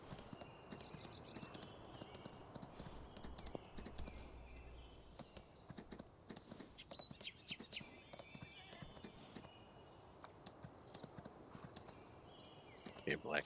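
Horse hooves clip-clop in a steady walking rhythm inside the farming game Farming Simulator 19, fairly quiet and continuous, with voices talking over the top for much of the stretch.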